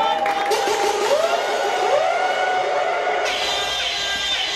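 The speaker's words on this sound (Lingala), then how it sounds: "Est-ce que nous pouvons applaudir très très fort," Guests at a wedding celebration cheer and whoop loudly as a crowd, with shouts rising over one another for several seconds.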